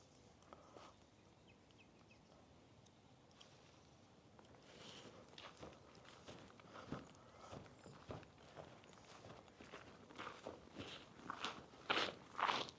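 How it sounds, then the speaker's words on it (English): Footsteps crunch and rustle through foliage on a countryside hike near Shipbourne, a quiet stretch giving way to a steady run of close steps that grow louder toward the end, with faint birdsong behind. "apart from my footsteps through this foliage"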